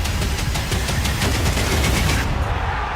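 A rapid series of gunshots fires in a Counter-Strike match during a professional IEM Cologne 2024 esports broadcast, a dozen or so sharp, evenly spaced cracks in quick succession, loud and close, ending abruptly near the end.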